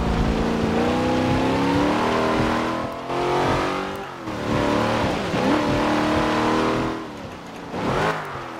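A race car engine in the Forza Motorsport 7 racing game revs hard through gear changes, its harmonic whine climbing and dropping repeatedly, with brief dips in level and a final sharp rev, no talk over it.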